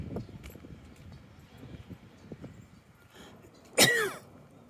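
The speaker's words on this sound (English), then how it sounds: "Excuse my gagging and choking and coughing." A person on a city sidewalk in Halifax's South End gives a short, loud throat-clearing cough near the end, standing out over faint street noise and footsteps.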